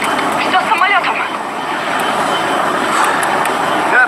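Airplane engine roaring steadily in flight in a film scene, a loud sustained drone that fills the whole clip with slight swells, voices briefly heard near the start.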